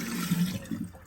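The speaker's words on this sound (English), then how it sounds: "I'll rinse the cup" Water splashes and pours briefly as a cup is rinsed, a faint, short wash of liquid with no voices.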